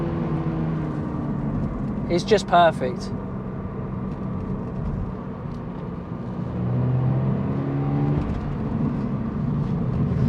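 Toyota GR86 engine droning and building revs while lapping the Brands Hatch Indy circuit, heard from inside the cabin. The tone climbs toward the end as someone talks over it.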